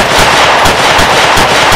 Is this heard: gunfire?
yes